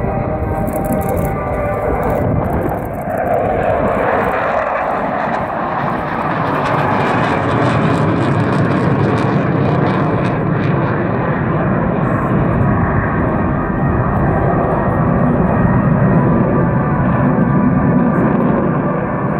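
A Dassault Mirage 2000N jet flies past at an air show, a loud continuous roaring engine rumble that swells and holds with a broad rushing hiss, close and overpowering throughout.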